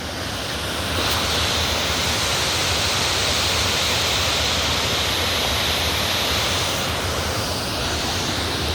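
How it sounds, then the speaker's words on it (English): A waterfall rushes steadily beneath a walkway in springtime, a loud, constant broadband roar of flowing water that fills the whole stretch without a break. "I'm walking over a waterfall."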